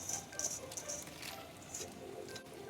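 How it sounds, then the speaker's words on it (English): Torn mushrooms drop into a pot of Myanmar chicken vermicelli soup, making soft, quiet wet pats and squishes in a few scattered bursts. "I'm going to add the remaining mushrooms in."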